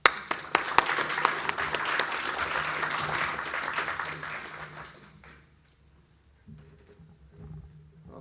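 Audience applause welcoming a professor before a fusion energy talk, a full room clapping steadily for several seconds, then fading out into quiet room noise.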